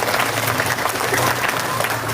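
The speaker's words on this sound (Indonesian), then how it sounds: "tepuk tangan untuk pamimpin yang ada bukti" A crowd at a religious sermon applauds steadily, dense clapping filling the whole moment at a fairly loud, even level.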